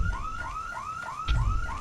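Alarm-style sirens in the video game Lethal Company, a loud, steady run of rising electronic whoops repeating about every half second, with a low thump breaking in near the end.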